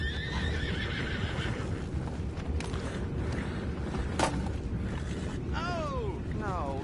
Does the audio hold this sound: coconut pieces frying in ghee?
no